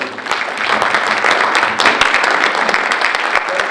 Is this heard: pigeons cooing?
no